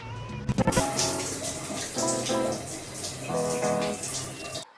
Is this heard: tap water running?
yes